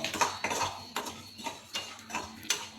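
A spoon scraping and clinking against a pan as millet roasts over the stove, stirred in steady repeated strokes about every half second, close and fairly quiet, with no talking.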